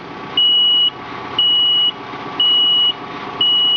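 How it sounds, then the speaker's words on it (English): A John Deere 4066R tractor moving in reverse sounds a steady run of loud reversing beeps, four evenly spaced tones over a constant engine rumble. "then we're going to move the tractor back."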